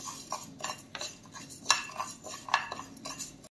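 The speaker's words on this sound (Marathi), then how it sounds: "आता आपल्याला ही मेथी तव्यावरती हलकीशी भाजून घ्यायची आहे" Fenugreek seeds being lightly roasted on a griddle and stirred with a metal utensil, a series of soft scrapes and clinks with two brighter metallic taps, close up with no talking.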